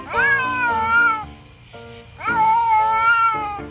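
A cat gives two drawn-out, plaintive meows separated by a short pause. Both are loud and close, with nothing else heard.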